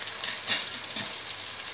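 Green chillies and peanuts fry in a pan, producing a bright, even sizzle up close with faint stirring movement and no talking.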